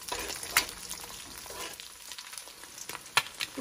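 Egg mixture stirring and frying in a pan for shrimp noodles, a steady soft sizzle broken by a few sharp scraping clicks of a utensil against the pan.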